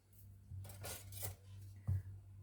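Kitchen knife cutting washed button mushrooms into thick slabs on a board, a few soft chopping taps and scrapes with one sharper knock near the end, close and quiet, with no talking.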